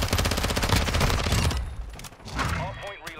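Sustained automatic gunfire in a Call of Duty Modern Warfare 2 ranked Hardpoint match rattles loudly and continuously for about one and a half seconds, then gives way to scattered shots and in-game commotion.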